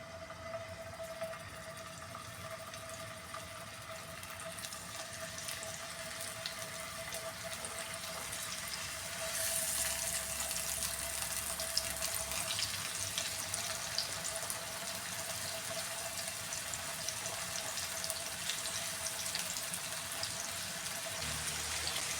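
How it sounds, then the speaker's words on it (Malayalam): Fish frying in coconut oil in a pan over a medium flame gives a steady, continuous hiss and crackle that grows slightly louder partway through, with no talking. "ഇത് മീഡിയം ഫ്ലെയിമിലിട്ട് വേണം ഫ്രൈ ചെയ്തെടുക്കാൻ"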